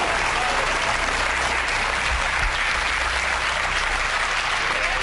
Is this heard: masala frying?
no